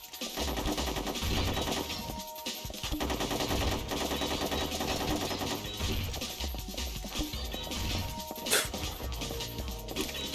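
Continuous video game gunfire from Ghost in the Shell: Stand Alone Complex on the PSP, blended into a busy, dense mix of shots and game sound that runs steadily throughout at moderate loudness, with one sharper crack near the end.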